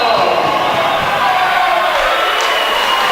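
The Rattler home crowd roars at a college volleyball match between St. Mary's and Texas-Permian Basin, a loud, dense wash of cheering and whoops filling the gym without a break.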